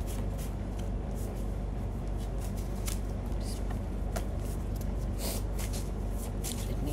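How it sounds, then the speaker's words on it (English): Tarot cards are shuffled at close range, a continuous papery riffle and slide with repeated soft flicks throughout, quiet and steady. "Shuffle them properly and let's see your messages."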